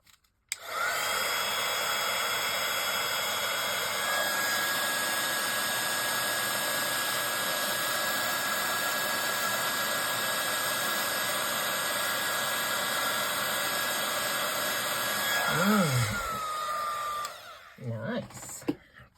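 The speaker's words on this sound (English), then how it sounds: "heat emboss this." Heat gun blowing while heat embossing a stencil, a loud, steady, close whooshing hum held for about fifteen seconds before cutting off, with a voice briefly heard near the end.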